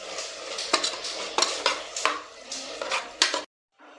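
Spoon stirring tomatoes and spices sautéing in a pan for mushroom biryani, with repeated sharp metal clinks over a steady soft sizzle, ending abruptly in near silence.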